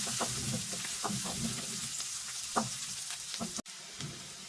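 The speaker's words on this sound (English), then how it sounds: "To this add 2 cloves of garlic chopped, 1 piece of ginger chopped, and 2 green chilies chopped. Fry for a minute." Chopped garlic, ginger and green chilies frying in hot oil in a pan, a steady bright sizzle with intermittent stirring scrapes and clatter, close and continuous.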